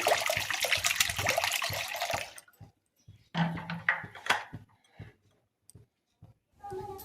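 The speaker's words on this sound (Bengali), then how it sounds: "এরপর কড়াতে জল দিতে হবে" Water is poured into a wok in a home kitchen during raw mango preserve making, heard as a few short splashing, running bursts separated by quiet pauses and light clicks.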